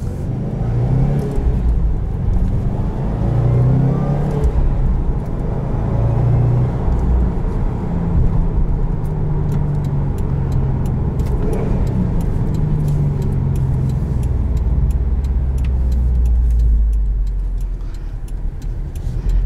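Engine of a 2021 Subaru WRX STI Limited pulls under acceleration while driving, a sustained low rumble and drone heard from inside the cabin, with some rattles and whir over the steady road noise.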